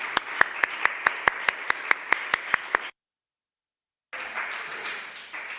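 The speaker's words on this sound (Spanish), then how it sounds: "Un aplauso para el Señor." Church congregation clapping together in a Spanish-language service, a run of sharp, evenly spaced unison claps that stops abruptly, then after a pause breaks into a looser spread of applause.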